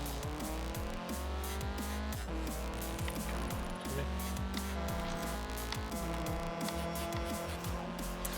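Car engine in Forza Horizon 4 with a deep, truck-like drone, revving continuously up and down through gear changes, loud and close with no talking over it.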